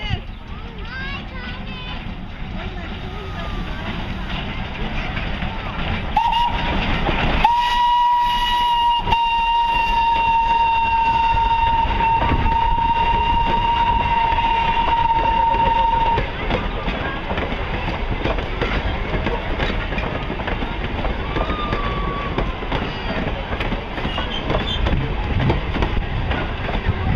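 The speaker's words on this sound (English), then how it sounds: "that was Thomas the Tank Engine, and he was down at the Strasburg Railroad this weekend" Thomas the Tank Engine steam train at the Strasburg Railroad sounds a steady whistle tone for several seconds over continuous rumbling rail noise and crowd chatter, with voices talking throughout.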